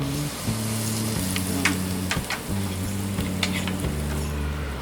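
Cumin and garam masala sizzle in hot oil and ghee with a steady close crackle and a few sharp pops, and a low humming drone runs underneath throughout.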